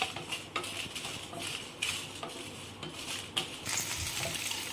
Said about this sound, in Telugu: దాని తర్వాత ఎండుమిర్చి ఇవి వేసి కొంచెం ఫ్రై చేసుకున్నాము.